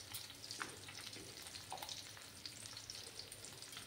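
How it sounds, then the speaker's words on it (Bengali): Pabda fish frying in hot oil gives a soft, steady sizzle with scattered small crackles and pops, fairly quiet and close, with no one speaking. "ততক্ষণে আমার মাছটা ভাজা হতে থাক"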